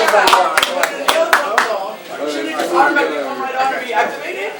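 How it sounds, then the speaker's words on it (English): An audience in a Chicago comedy room giving a comedian a round of applause: a few sharp claps at the start, quickly overtaken by close talking and crowd chatter. "Let's give him a good round of applause."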